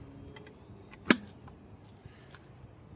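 A single sharp plastic snap of a center cap pressed onto a car wheel stands out once against faint background noise, short and crisp.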